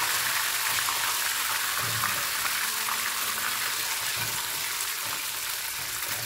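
Nendran banana chips fry in hot oil after salt water is added, giving a loud, dense, continuous sizzle and crackle of bubbling with faint low stirring knocks and no voices.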